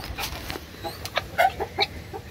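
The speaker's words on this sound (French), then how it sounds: "je vais vous présenter la poule qui couve" A brooding hen on a small home poultry farm gives a few short, soft clucks and squawks close by, irregular and spaced out over quiet background noise.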